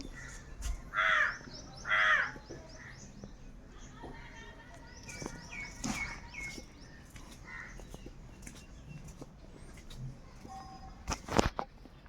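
Crows cawing near a large house, two loud close caws early on followed by fainter bird calls and scattered rustling and knocks in the background.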